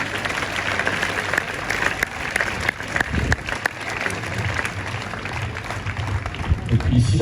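An audience at a tennis tournament's closing ceremony applauds in a steady wash of clapping, with a few louder claps and voices mixed in.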